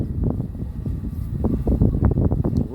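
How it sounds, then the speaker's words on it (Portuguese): Strong wind buffets an outdoor microphone near an L500 Pro drone, a steady low rumbling roar with gusty surges throughout, loud and close. "Daí já começou a ventar hoje já."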